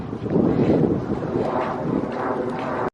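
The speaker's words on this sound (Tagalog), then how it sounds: "Mahangin na oh." Gusty wind outdoors behind a condo pushes a continuous low roar of buffeting across a microphone, steady and loud throughout the clip.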